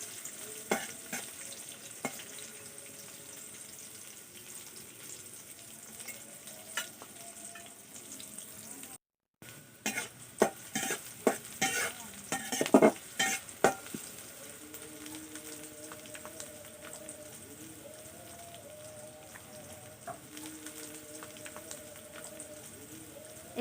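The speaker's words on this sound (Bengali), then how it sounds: "একটা খুঁটি দিয়ে ভালো করে নেড়ে চেড়ে এগুলোকে তেলের মধ্যে ভালো করে ভেজে নিচ্ছি" Onions and green chillies sizzle in oil in a pan for a cowpea and potato bhaji, stirred with a spatula; soft steady frying runs throughout with a cluster of louder scrapes and taps partway through, and no talking.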